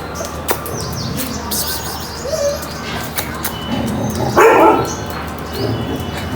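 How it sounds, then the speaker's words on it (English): A dog barks at monkeys outdoors near a fort and mosque, the barks sounding in short bursts amid birds cooing and general ambient noise, fairly distant and mixed into the scene. "the dog's barking because of the monkeys"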